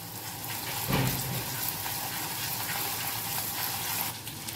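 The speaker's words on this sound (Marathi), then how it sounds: "अद्रक लसूण छान परतून घ्यायचे" Steady frying sizzle as ginger and garlic sauté in a pan, continuous and even, with a brief stirring scrape near the start and no voices.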